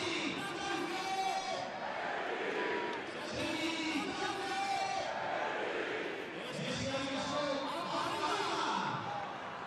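A stadium crowd at a Spanish top-flight football match between SD Eibar and Real Betis roars in sustained waves of ovation and cheering for a substituted player, dense and continuous, with a commentator's voice over it.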